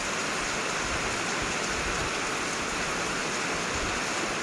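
Steady, dense heavy rain during flooding and strong wind, with a broad hiss, continuous and loud throughout, no voices.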